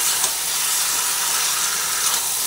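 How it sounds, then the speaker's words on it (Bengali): Chicken pieces fry in a pan while being cooked down for capsicum chicken, giving a steady, close sizzling hiss that stays even for a couple of seconds with no talk. "ভালোভাবে কষিয়ে নিতে নিতেই মাংসটা কিছুটা সেদ্ধ হয়েও এসেছে।"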